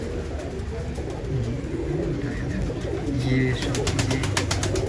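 Pigeons of a champion fancier's flock in Jamshedpur, Jharkhand, cooing in repeated soft low throaty phrases close by, overlapping with someone talking, and a burst of wing flapping or clattering near the end.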